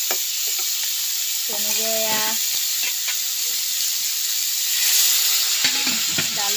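Lentils and tomatoes frying in a pan, a loud, steady close sizzle and hiss throughout, with a voice speaking briefly over the cooking in places.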